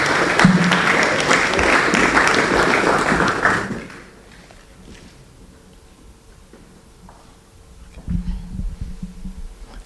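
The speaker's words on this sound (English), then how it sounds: "Let us welcome him with a round of applause." Audience applause at a university public lecture, a loud room-filling round of clapping for about four seconds that stops abruptly, followed by quiet room noise and a low hum with faint shuffling.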